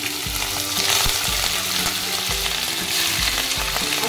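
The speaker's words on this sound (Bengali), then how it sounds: "এবার আমি চিংড়িগুলো ফ্রাই করে নেব।" Prawns fry in a hot pan for a Bengali daab chingri, giving a loud, continuous close sizzle with occasional stirring knocks and no voices.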